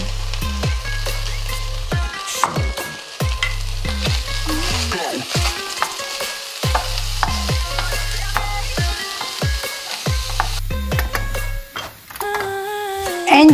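Crispy baby corn and spring onion sauté in a hot pan with garlic, a steady loud sizzle broken by repeated stirring and scraping strokes, close up.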